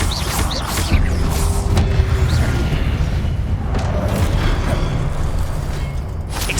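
An Expelliarmus spell cast in Hogwarts Legacy booms amid continuous battle noise, with several impacts and crashes rolling through a loud, rumbling game soundscape.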